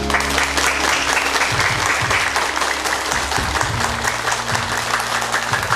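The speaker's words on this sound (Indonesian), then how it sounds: "tepuk tangan semua" Applause from a yoga class in the Yoga Park at Ubud Raya Resort, a steady dense clapping from the group that runs loud and unbroken for several seconds.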